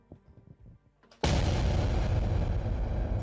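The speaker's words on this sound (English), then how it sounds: "I got an explosion." A sudden loud explosion sound effect bursts in after a quiet stretch of soft clicks and thumps, then holds as a dense, sustained roaring rumble to the end.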